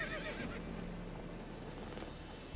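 Roach the horse gives a faint whinny in The Witcher 3 video game, a short neigh near the start over a low, steady ambient background.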